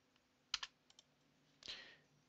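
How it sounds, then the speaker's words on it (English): A computer keyboard clicks a few times close up, quiet crisp taps followed by one slightly longer press, in an otherwise silent room. "Hit enter on the keyboard"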